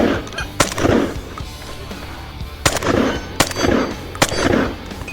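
Shotgun blasts at a shooting match, five sharp loud reports spaced irregularly over a few seconds, each followed by a brief echo, with no talk between them.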